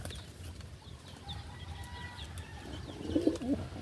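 Pigeons coo softly from a loft where eggs are being kept, low murmuring calls rising briefly near the end over steady background rustle and distant bird chirps.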